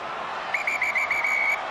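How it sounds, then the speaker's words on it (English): A referee's whistle blows at the end of a Rugby World Cup 2011 match between France and Tonga, a series of short shrill trills over a loud stadium crowd roar. "The whistle goes for the end of the match"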